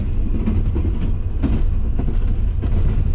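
Tezgam passenger train running fast through Bin Qasim railway station, heard from inside as a loud, constant low rumble with rapid wheel clatter and rattling, no voices.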